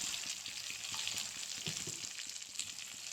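Turmeric, cumin and coriander powder frying with pointed gourd in a pan, a steady soft sizzle under light intermittent stirring scrapes, close and moderately quiet.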